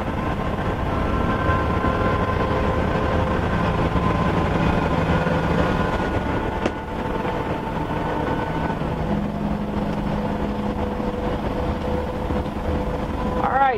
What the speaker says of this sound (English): The RV goes nice and straight down the highway.